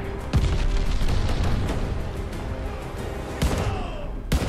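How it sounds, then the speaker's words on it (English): A game explosion from an enemy glide bomb, heard as a string of heavy booms with two sharp blasts landing near and loud, then a last hit that cuts off. "Got an enemy glide bomb on the way."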